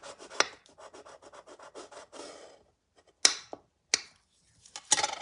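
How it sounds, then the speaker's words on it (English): A bone folder is rubbed over paper to press adhesive down on a handmade card, giving a quick run of close, rhythmic dry scrapes, then a pause and a few separate sharp rubbing strokes. "I'm going to grab my bone folder and make sure that that's really stuck down"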